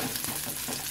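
Ginger sizzles in a pan while being cooked for chicken adobo, a bright, steady crackling fry heard close and alone for a brief moment.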